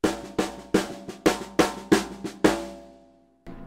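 Drums play a 7-stroke roll fill in a 4/4 measure: seven evenly spaced, sharp hits that each decay quickly, then a pause and one more strike, close and alone.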